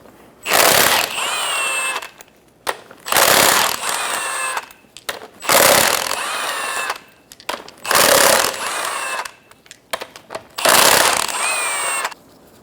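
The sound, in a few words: power tool removing wheel lug nuts, Honda Accord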